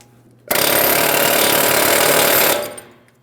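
A metal hub cap on the rear wheel bearing of a 2003-2008 Toyota Matrix being hammered in a rapid, continuous, loud metallic barrage. It starts abruptly, holds for about two seconds, then stops and leaves a short ringing tail.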